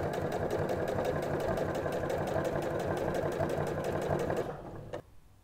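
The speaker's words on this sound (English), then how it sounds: "And start sewing." A sewing machine topstitching a seam with thick topstitch thread whirs steadily with a fast, even needle rhythm up close, then slows and stops near the end, leaving a quiet tail.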